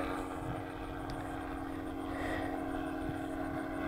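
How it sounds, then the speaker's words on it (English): A light airplane fitted with a brand-new Warp Drive three-bladed propeller runs at steady RPM, giving a continuous droning engine and prop tone with an even buzzing hum throughout, no voices. "This is a brand new warp drive three-bladed prop."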